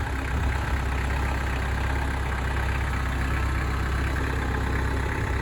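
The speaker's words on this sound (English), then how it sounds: "he is going to take the tractor for a spin." A farm tractor engine idles steadily at close range, a continuous low rumble with no speech over it, on a cool breezy day of about 50 degrees.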